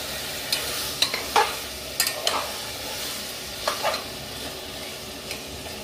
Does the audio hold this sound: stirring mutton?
yes